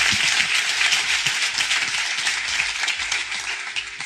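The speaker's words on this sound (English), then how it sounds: "can we all give a round of applause to the black men who spoke life into another black man?" An audience applauds loudly and steadily throughout, a dense wash of many hands clapping with no pause, a few single claps standing out close by.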